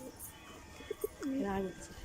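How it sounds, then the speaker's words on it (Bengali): A Kalshira pigeon gives a couple of soft, quiet coos against a faint background hum. "গৌতম কবুতরের কাছে কালশিরা, পিওর যে কালশিরা সেটা দেখাবো।"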